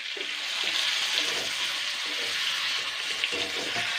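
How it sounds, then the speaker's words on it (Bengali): Chopped tomatoes land in a pan of frying potatoes, and a dense, close sizzle keeps up a constant crackling hiss with no one talking. "আর যে কেটে রাখা টমেটোগুলো আমি দিয়ে দিচ্ছি"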